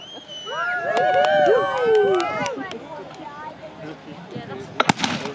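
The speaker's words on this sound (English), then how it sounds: "Well, give them a cheer then, because they're getting surrounded." Crowd at a historical battle reenactment in Whitby, with rising shouts and cheers layered over steady background hubbub, then a few sharp bursts near the end.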